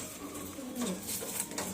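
Pigeons in a loft give low, throaty cooing that rises and falls in a few close, fairly loud phrases over a soft background.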